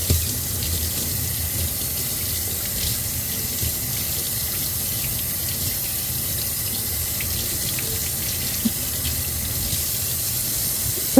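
Tap water pours steadily into a kitchen sink as cut steak is rinsed, a continuous close splashing rush with no pauses or talk.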